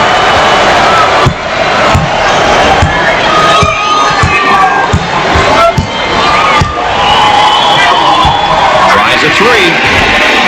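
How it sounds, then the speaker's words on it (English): A basketball arena crowd chants and cheers in a simulated Final Four game between Villanova and Kansas, a loud continuous roar with rhythmic chanting and scattered ball bounces and sneaker squeaks beneath it. "The crowd begins to chant."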